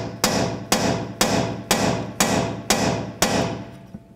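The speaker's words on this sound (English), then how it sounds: "I'm just going to use a punch and a hammer" Seven sharp metallic hammer strikes on a punch, tapping down a front strut on a BMW X3, evenly spaced about half a second apart, loud and close with brief ringing decay.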